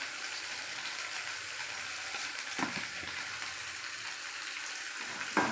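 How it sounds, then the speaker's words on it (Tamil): Curry leaves, mint and coriander with small onions and tomato sauté in a pan, giving a steady close sizzle with soft stirring scrapes and a few louder crackles, no voices. "நல்லா வதங்குது. நல்லா வதங்கட்டும்."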